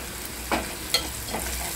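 Red chili masala goes into hot oil for a ridge gourd sabzi, and the oil sizzles steadily with three brief stirring scrapes standing out over the hiss.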